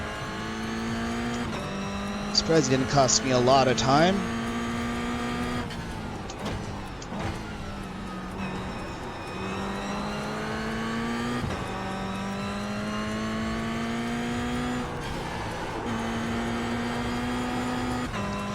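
A Toyota GR86 Cup race car engine in the iRacing simulator at Tsukuba Circuit drones steadily, revving up and down through gear changes with tire and brake squeals. Someone speaks briefly over the engine.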